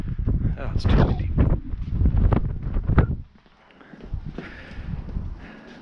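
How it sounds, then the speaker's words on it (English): Gusty wind buffets the microphone in heavy low rumbles for a few seconds, then eases to a quieter breezy hiss. "Oh, it's too windy."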